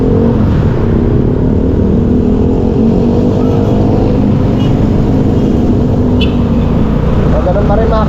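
Heavy road traffic gives a loud, unbroken rumble of engines and tyre roar close by, with a few sharper engine surges and no clear pauses.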